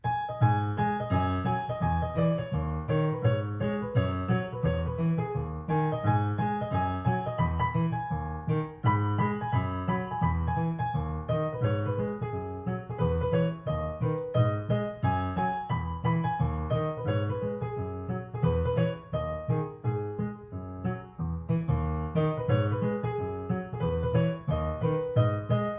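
Piano playing a song at full tempo, a steady driving rhythm of bass and chords running continuously and evenly loud throughout, with no voices.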